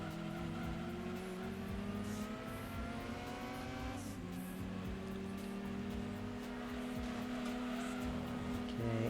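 Race car engine in the video game Gran Turismo 2 drones steadily at high revs, with the pitch sliding as gears shift and a brief dip near the middle. It is loud and continuous, with no talking.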